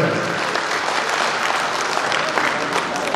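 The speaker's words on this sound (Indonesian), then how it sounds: "Tepuk tangan untuk kita semuanya." Steady, dense applause from a large audience at an Indonesian motivational gathering of the Aspeksi family, sustained and loud throughout with no break.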